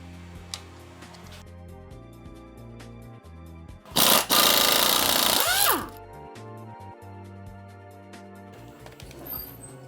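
A power tool buzzes loudly in a single burst of about two seconds while the belt tensioner comes off the 2ZZ engine of a Toyota MR-S. Before and after it, softer clicks and workshop noise fill the gaps.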